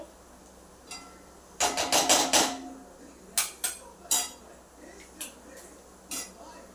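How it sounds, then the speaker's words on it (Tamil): Two eggs cracked into a hot pan of chili-powder tamarind rice mixture for egg podi mass, a burst of sharp clattering and tapping followed by scattered knocks, close and fairly quiet. "இப்போ இது கூட 2 முட்டையை உடைச்சு ஊற்றிக்கலாம்"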